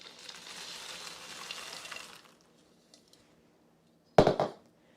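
Bread pieces are dumped into a scalloped chicken mixture, giving a short, loud wet splat and rustle near the end, after a stretch of soft sizzling hiss that fades into quiet.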